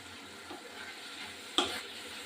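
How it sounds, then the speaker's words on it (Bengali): A prawn curry with coriander leaves simmers in a pan with a soft, steady sizzle as it is stirred, and a single clank of the spoon against the pan stands out partway through. "এবার নাড়াচাড়া দিয়ে নামিয়ে দেবো"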